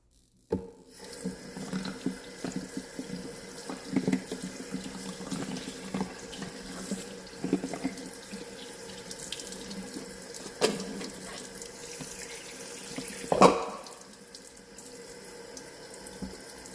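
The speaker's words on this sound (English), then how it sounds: "So I am ready to take a shower after this." Water runs steadily from a tap before a shower for about sixteen seconds, a constant splashing hiss with scattered clinks and knocks, one sharper clatter near the end, no talking.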